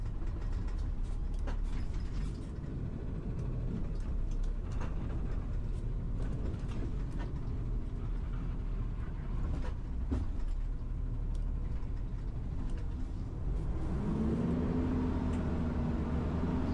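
An old truck's engine runs with a constant low, rough rumble and mechanical rattling, steady throughout, with a droning tone swelling in near the end; no speech.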